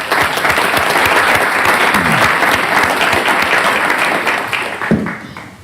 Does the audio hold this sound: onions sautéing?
no